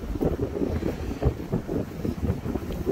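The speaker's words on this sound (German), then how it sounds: "Aber das ist halt der Wind." Headwind buffeting a helmet-mounted microphone while riding, a loud continuous low rumbling roar with gusty pulses throughout and no speech.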